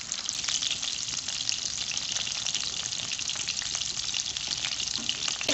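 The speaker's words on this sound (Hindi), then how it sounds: "इसे लो फ्लेम पे फ्राई करना है। इसको उलट पुलट करते हुए इसे फ्राई कर लेंगे।" Chicken gola kababs fry on a low flame, a close, even and continuous sizzle of oil with faint occasional ticks from turning, steady throughout and without any voices.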